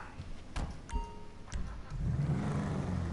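An Albany Virgo car in GTA Online, with door and entry clunks followed by the engine starting and revving into a steady mid-pitched drone, close and moderate in level.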